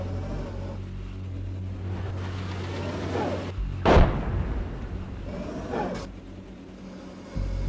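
Artillery and indirect fire in the PC tank game Gunner HEAT during a night counter-attack with Marder 1 vehicles, a sharp loud blast near the middle and a softer one later over a constant engine rumble.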